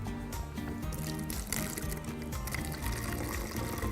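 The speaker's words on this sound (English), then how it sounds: "I'm going to pour some of this hydrogen peroxide into the bottle" Hydrogen peroxide is poured through a funnel into a bottle, a continuous gurgling trickle with small splashes and drips, fairly faint against background music.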